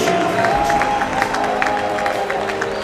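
A large crowd applauds and cheers for the Texas Longhorns, 2016 NCAA champions in the men's 800-yard freestyle relay, at the NCAA Swimming Championships pool, with steady dense clapping echoing through the natatorium and an announcer's voice carrying over it.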